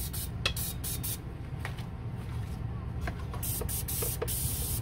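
A can of cooking spray hisses in short, uneven bursts over a sheet of wonton shrimp rangoon, sputtering as the can runs low, over a steady low background hum.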